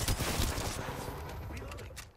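Gunfire from a weapon in the video game Apex Legends, a dense burst of rapid shots up close and loud at the start, thinning and trailing off over about two seconds.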